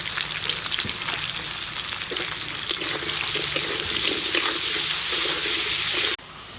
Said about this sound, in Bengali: দেখুন খুব সুন্দর লাল করে ভেজে নিয়েছি আলুটাকে